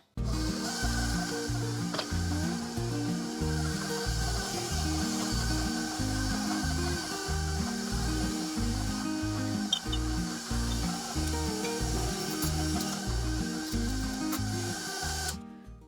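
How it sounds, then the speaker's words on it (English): Pizzelle dough being mixed in a bowl, a steady rhythmic scraping and thudding of repeated strokes, close and continuous throughout with no talk. "I'm just going to mix this up a little bit more"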